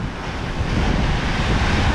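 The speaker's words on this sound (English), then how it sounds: "we'll go watch the waves." Ocean surf roars steadily along the New Zealand west coast near Greymouth, a dense continuous wash of crashing waves mixed with wind buffeting the microphone.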